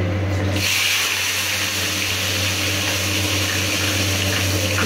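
Eggplant pieces frying in hot oil seasoned with asafoetida for a spicy eggplant dish, giving a loud, steady broadband sizzle that holds evenly from start to end with no talk.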